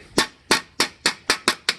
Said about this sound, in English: Hammer her down, bud. Real easy. A few quick strikes.